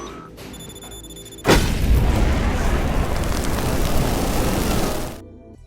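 A huge explosion in an action film hits suddenly and loud, then rolls on as a dense, sustained roar for several seconds before cutting off abruptly.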